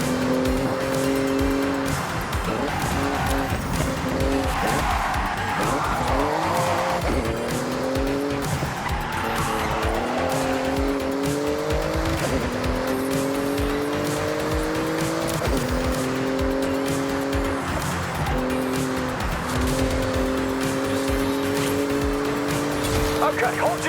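A Porsche race car in Forza Horizon 6 speeds through a speed zone. The engine roars steadily and climbs through repeated gear shifts, with tire squeal and a voice over the top.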